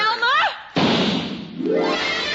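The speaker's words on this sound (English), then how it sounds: "Gee, Ma, just let me set off this cannon cracker." A cannon cracker firecracker goes off in an old-time radio drama, a sudden loud bang that cuts in sharply and trails off into a long noisy decay, following a brief stretch of voice.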